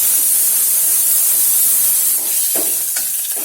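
Finely chopped garlic and slit green chillies fry in hot oil for Maharashtrian curd kadhi, giving a steady close sizzling hiss with a few brief crackles toward the end.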